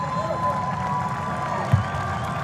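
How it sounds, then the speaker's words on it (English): A large indoor crowd at a women's college basketball game at the Tucker Center applauds and cheers in a steady, sustained wash of clapping. "Get a nice round of applause here from the fans at the Tucker Center."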